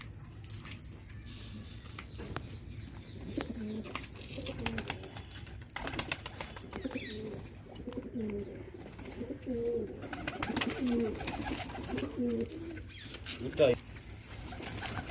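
Pigeons, including a one-legged bird, coo softly in a loft, with repeated low cooing phrases over steady background noise and occasional jangling.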